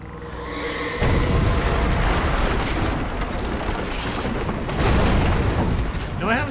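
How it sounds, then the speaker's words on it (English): A loud explosion from the Alan Wake video game bursts in abruptly at about one second, then a sustained, rumbling roar of debris and crackle fills the rest of the clip, swelling again near the end, with voices talking over it. "I haven't seen a Great Fury explosion like that."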